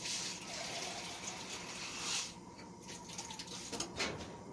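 Water pours into a soup pot for beef tortilla soup, a steady splashing, filling gush held close for about two seconds, then thinning to scattered drips and light clinks.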